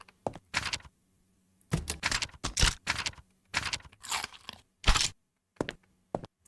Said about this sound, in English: I don't know why it makes like a chip crunching sound whenever you use the medkit, though